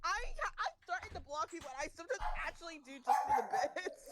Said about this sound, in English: You're about to hear my dog.